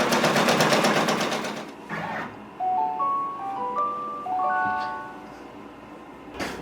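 An embroidery machine stitches a design with a loud, fast, close rattling buzz for a second or two, then stops. A bright electronic chime melody follows, rising in short tones.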